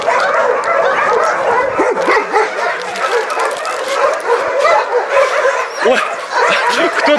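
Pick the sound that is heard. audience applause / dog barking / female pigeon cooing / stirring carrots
dog barking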